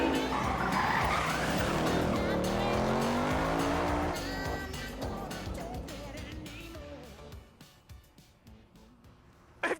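A Ford Mustang muscle car skids on a track with loud, wavering tire squeal and engine roar for about four seconds, then fading with scattered rumbles; voices talk over it.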